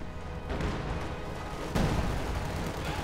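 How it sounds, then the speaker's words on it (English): A Panzerfaust fires at a Katyusha rocket truck in the strategy game Company of Heroes 2, a sharp blast rising out of a steady rumble of battle noise. "Panzerfaust on the Katyusha"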